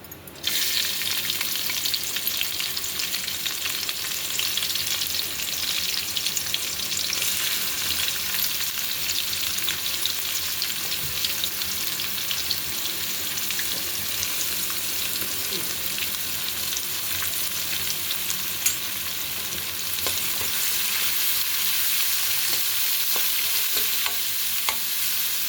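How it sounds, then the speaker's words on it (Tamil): Chopped onions sizzle and crackle steadily in a hot pan with oil, an even frying hiss that runs throughout with occasional stirring knocks. "நம்ம கட் பண்ண வெங்காயம் போட போகிறோம்."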